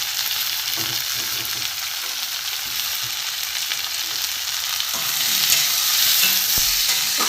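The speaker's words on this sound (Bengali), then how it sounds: "পেঁয়াজ, রসুন, টমেটো একটু ভাজা ভাজা হয়েছে" Onion, garlic and tomato sizzle in a pan for a pomfret fish curry, with steady stirring and scraping, a continuous close hiss that swells a little louder near the end.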